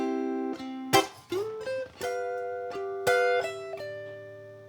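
Ukulele playing the closing two bars of a rock-blues theme: crisp strummed chord hits, percussive pops and a short sliding lick, clear and close with sustained ringing notes between strikes.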